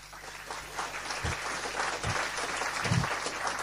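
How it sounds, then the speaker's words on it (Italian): Audience applause at a technical presentation event, steady clapping from a modest crowd, sustained and moderately distant, with a few louder thumps mixed in. "Un applauso intanto a loro."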